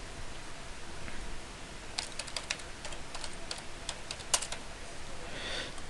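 Fingers tap a computer keyboard in a quick burst of light clicks, about a dozen keystrokes over a few seconds, close and fairly quiet over steady room hiss.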